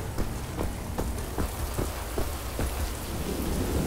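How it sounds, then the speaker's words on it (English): Rain and thunder in the video game Wolfenstein: The New Order, a steady wash of heavy rainfall with repeated soft thunder rumbles, loud and immersive, with no talking. "Raining."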